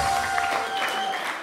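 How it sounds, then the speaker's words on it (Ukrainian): Wedding guests applaud together at a Ukrainian wedding reception, a steady dense burst of clapping from a crowd held at even loudness for the whole stretch, with no voices over it. "Друзі, оплески."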